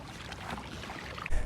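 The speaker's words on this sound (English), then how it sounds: "We're actually paddling from one island to another." A boat is paddled along a shoreline between islands, with soft watery splashing and wind noise, ending in a louder slosh of a paddle stroke close by.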